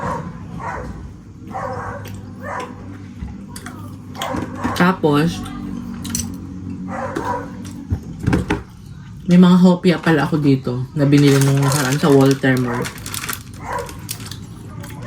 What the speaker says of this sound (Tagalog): Ang ingay naman ng aso yun